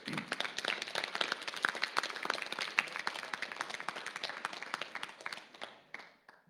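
A round of applause at a fall sports awards ceremony breaks out for an honoured player, dense clapping from a gathered crowd that holds steady for several seconds before thinning and tapering off at the end.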